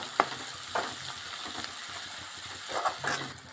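Pav bhaji with green garlic sizzles as it fries in a pan, with a steady crackle under several distinct scraping strokes of a spoon, close and moderately loud, with no one talking.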